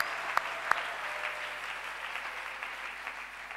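A church congregation applauds steadily, a dense, even patter of many hands that carries on at moderate level and slowly thins toward the end, with a couple of sharper knocks near the start.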